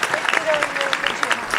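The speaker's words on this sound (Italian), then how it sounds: "Allora un altro applauso" Applause from a live audience at an outdoor evening event in Tortolì, steady dense clapping with a faint voice talking over it throughout the short stretch.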